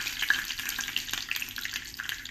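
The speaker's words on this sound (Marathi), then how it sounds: "मोहरी तडतडली की मग लगेच त्यात आपल्याला गॅस कमी करून घ्यायचा आणि गोडलिंब घालायचा आहे" Mustard seeds splutter in hot oil with curry leaves, a soft, dense crackle of quick pops and sizzling that runs continuously at low volume.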